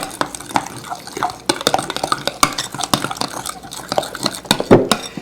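Coleslaw dressing with chili pepper and cumin being mixed, a run of brisk spoon scrapes and clacks against a bowl, irregular and close, fairly loud, with no voices.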